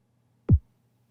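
A single tiny synthesized kick drum hit lands alone in near silence: one short, punchy thump with a quick downward pitch drop, over within a fraction of a second.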